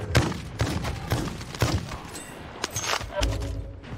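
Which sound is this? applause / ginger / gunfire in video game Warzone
gunfire in video game Warzone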